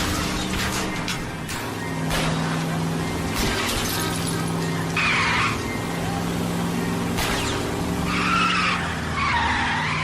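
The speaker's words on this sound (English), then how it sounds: "Hit him, Cole. Spin him out." Car chase in the LA Noire video game, with loud tire skids, engine roar and crunching impacts as cars ram each other, under shouted in-game dialogue.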